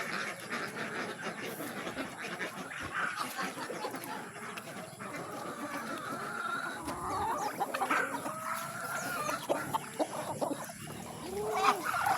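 Chickens cluck and murmur continuously at close range at feeding time, with scattered squawks and calls from ducks over a busy farmyard background.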